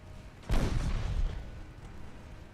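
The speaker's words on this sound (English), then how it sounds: "All secondary guns on the destroyer, please." A destroyer's secondary guns fire in Ultimate Admiral Dreadnoughts, a single sharp burst with low rumble that fades over about a second against quiet background noise.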